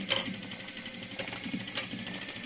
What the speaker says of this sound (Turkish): bu şekilde tekrardan dikiş geçiyorum üstüne daha birleşim yerlerinden tekrar git gel yapıyorum